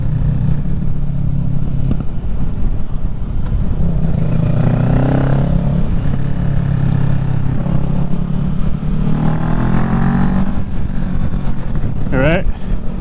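A 2023 Kawasaki Ninja 650 engine revs up and down on a mountain road, rising and falling in pitch under steady wind roar, with someone talking over the ride.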